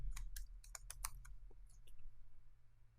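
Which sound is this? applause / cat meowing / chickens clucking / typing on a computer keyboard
typing on a computer keyboard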